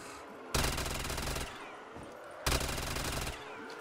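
A P90 submachine gun firing in a zombies shooter, two sustained rapid-fire bursts of about a second each, loud and close, separated by a brief pause with game ambience.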